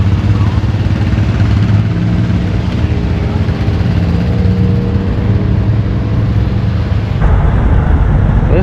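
International Harvester 756 high crop tractor mowing, its steady low engine drone running loud and continuous throughout, with a brief shift in tone near the end.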